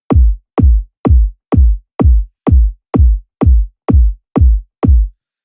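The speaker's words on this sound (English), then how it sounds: "So the kick I opted for sounds like this." Eleven evenly spaced tech house kick drum hits, each a loud, boomy low thump with a crunchy distorted top, repeating alone at a steady dance tempo.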